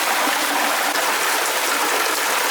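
Heavy rain pours down on a market garden in a dense, steady, broadband hiss of falling water that stays loud and unbroken throughout.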